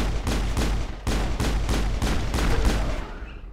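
Rapid bursts of gunfire from the video game Mass Effect 1 during a firefight, loud repeated shots in a steady stream with no talking.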